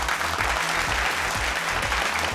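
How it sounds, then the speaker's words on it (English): An audience at a school pentathlon quiz show between St. Anthony's College and Anula Vidyalaya gives St. Anthony's team a round of applause, loud dense clapping over a pulsing music bed that repeats beneath it. "So let's all put a big round of applause to St."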